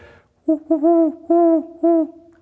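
A man imitates a great horned owl with his voice, giving a clear series of four low, steady hoots, the second and third drawn out, close and loud with no other talk.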